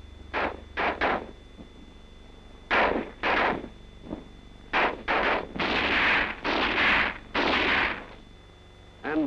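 Squad rifle fire during military training, a fire-and-maneuver exercise: loud bursts of gunshots come in uneven clusters, several rapid reports in a row, then a denser stretch of overlapping fire with short gaps between bursts.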